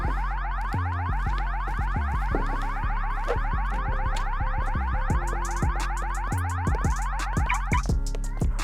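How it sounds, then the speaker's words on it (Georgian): A car alarm goes off nearby in a house at night, cycling loudly through repeating electronic warble and chirp patterns without pause. "სიგნალიზაცია რატომ ჩაირთო?"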